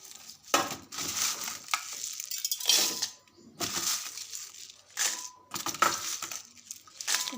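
Dried red chillies roasting in a hot pan, with intermittent dry crackling, crunchy scraping and stirring bursts separated by brief quiet gaps, close and moderately loud, no talking.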